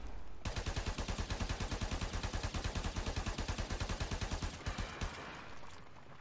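Rapid automatic gunfire from a weapon shooting a boss's weak points in the video game Warframe, a steady stream of evenly spaced shots lasting about five seconds, loud and up close with no talk.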